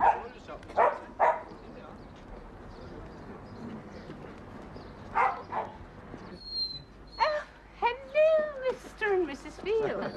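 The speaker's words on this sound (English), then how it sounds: "Nice looking dog. Doberman, isn't it?" A Doberman cross dog barks in a short run of sharp, close yaps. Scattered bursts are separated by quieter stretches, and a final cluster of higher whining barks closes it out.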